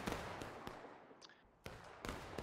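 Volleys of musket fire on a War of Rights battlefield, with sharp broadband cracks at the start and then again partway through, a few further scattered shots between them, and an echoing tail in the quieter stretch between the volleys.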